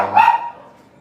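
A dog gives a single short, sharp bark nearby, quickly fading with a brief tail of room echo.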